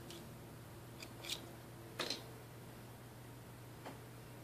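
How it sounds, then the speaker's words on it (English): Scissors snip off leftover thread while a fly is tied, giving a few faint, crisp clicks spread out over a quiet, low steady hum. "you can just take it and snip it off"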